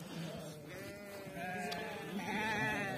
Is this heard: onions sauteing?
no